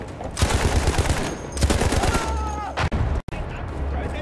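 Rapid bursts of gunfire hammer at a tank in the World War I shooter Battfield 1, loud and close, with a player shouting over the shots.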